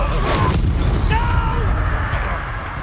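An Incendio fire spell goes off in a wizard video game: a loud, dense burst of whooshing fiery crackle and booming impact that swells, then tapers slightly toward the end, with faint game voices blended in.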